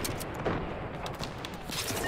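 Fortnite gunfire crackles in a dense, continuous volley of rapid shots with booming low end, a steady barrage heard without voices.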